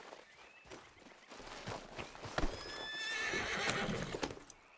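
Horse hooves clip-clop in Red Dead Redemption 2, a quick irregular run of close, soft thuds mixed with a whinny and some tack jingle, without talk.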